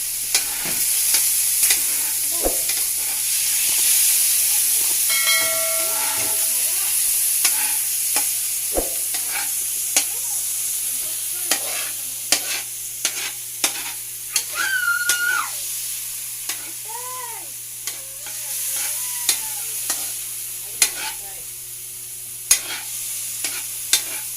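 Adobo is stirred and fried in a pan, with a continuous sizzle under repeated scraping and clacking of a utensil against the pan. Other kitchen clatter and faint voices can be heard in the background.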